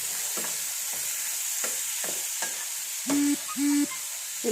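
A spoon stirs vegetable curry in a pan, a series of short scraping strokes at an uneven rhythm over a constant background hiss, with two brief tonal squeaks near the end.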